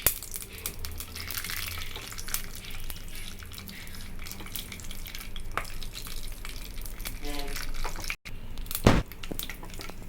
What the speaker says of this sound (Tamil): கடுகு பொரியட்டும் கடுகு நல்லா பொரிஞ்ச உடனே